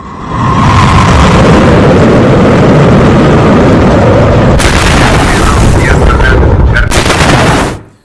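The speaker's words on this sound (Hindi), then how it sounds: "मिसाइल टेस्ट किया है और बैलिस्टिक मिसाइल टेस्ट है" A ballistic missile test launch in Iran makes a loud, sustained roaring rumble that holds for several seconds, is broken by sharper crackling bursts near the end, and then cuts off.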